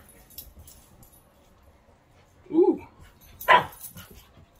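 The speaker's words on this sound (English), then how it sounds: "Look at these dogs." Dogs close by give a couple of short whining yips and a soft whimper between stretches of near quiet, with a person making a brief exclamation.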